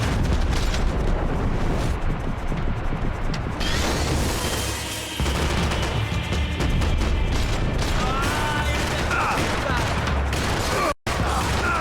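Rifle gunfire in the video game Max Payne 3, set in the favelas of São Paulo, with dense bursts of shots and booms running continuously and loudly, someone talking over parts of it.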